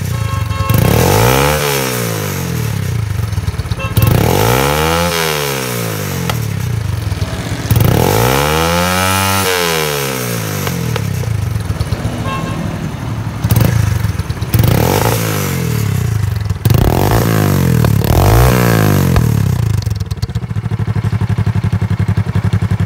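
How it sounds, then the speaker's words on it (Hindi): A motorcycle exhaust revs repeatedly, each loud throttle blip rising and falling in pitch over a steady rumbling idle, close up and continuous. "आप उस सलंसर की आवाज़ सुन लें"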